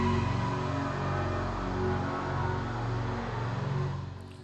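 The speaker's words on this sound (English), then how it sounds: "That particular sound was made from a preset called Sandman, which sounds like this." A Korg synthesizer plays the Sandman preset: a sustained, rich chord-like drone with a fluttering, pulsing texture, holding steady and loud before fading slightly at the end.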